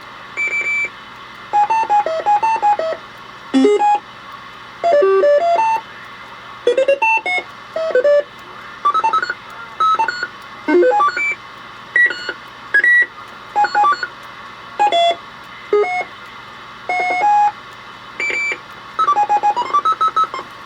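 Electronic beeps from a noise toy box roger beep unit, a quick run of short, loud, melodic tone bursts in an uneven stuttering rhythm with brief gaps, close and alone, no talking.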